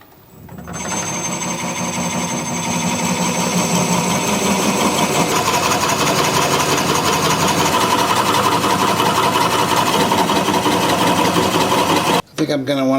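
A wood lathe turning a spalted sycamore bowl blank at about 340 RPM while a 2.5 inch Forstner bit drills into it, giving a steady, loud, continuous mechanical whir with a grinding edge that runs nearly unbroken before cutting off at the end.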